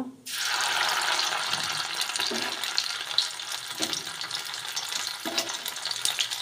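Cumin paste and whole garam masala dropped into hot oil for paneer doi kalia, a loud burst of sizzling that keeps crackling steadily, with a few stirring knocks and no talk.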